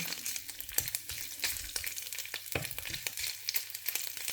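Ginger dropped into a hot frying pan sizzles and crackles at close range, a bright spitting hiss with rapid pops and scrapes throughout, and no voices.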